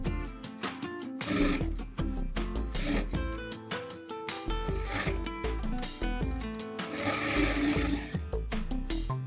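A sewing machine stitches the edge of a Patiala salwar in continuous rapid bursts with brief slowdowns between runs, close and loud, with a rhythmic mechanical clatter and no speech.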